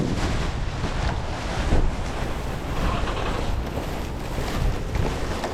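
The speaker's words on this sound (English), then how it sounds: "Oh, it would be windy." Strong wind buffets the microphone in a steady roar, with a dull rushing like surf underneath and no voices.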